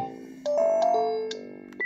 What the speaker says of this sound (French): vous allez pouvoir écouter les différentes mélodies